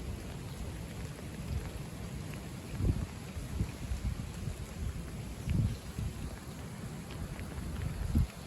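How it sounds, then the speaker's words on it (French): Wind roars during a stormy late-February spell, a steady broadband rush with heavier gusts surging at intervals, rather loud and without voices. "On entend le grondement du vent."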